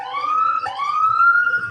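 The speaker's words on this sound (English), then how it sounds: "the neighbors called the cops, who had to blast their sirens" Wailing police siren rising in pitch, a brief break, then rising again; loud and close, no talking.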